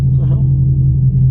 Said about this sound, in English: girlfriend's moving the truck